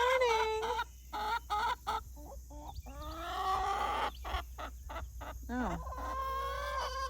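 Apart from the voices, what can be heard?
chickens clucking in a garden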